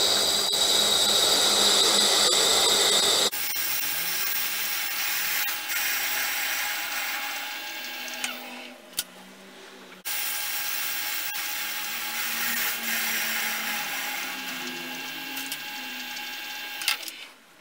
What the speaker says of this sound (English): we're ready now to machine the taper on the inside of this counter bore